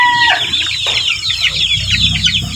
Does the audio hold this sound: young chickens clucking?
yes